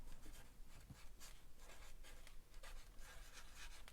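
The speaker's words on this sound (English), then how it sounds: "I'm gonna write patterned on here." A pen writes on cardstock during a paper-craft mini album project, giving a steady close scratchy rub with short stroke bursts that continue for the whole four seconds and are heard alone.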